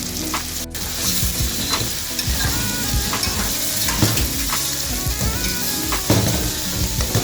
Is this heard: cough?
no